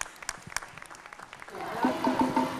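Audience applause breaks out at a live show, starting as scattered claps and swelling into fuller clapping, with music beginning underneath.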